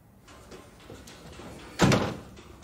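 A door is pushed shut indoors in a film scene, a single muffled thud with a short rumble standing out over a low room hum.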